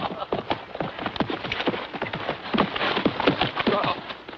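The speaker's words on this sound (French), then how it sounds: "Tu t'es dompté un bon cheval." A horse's hooves clip-clop in a quick, uneven rhythm on hard ground, close and fairly loud, steady throughout the moment with a little background noise.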